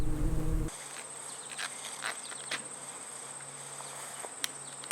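Honey bees buzz in a steady, close swarm around a monastery beehive in upstate New York during the late-summer honey flow, with a few louder individual bees passing the microphone.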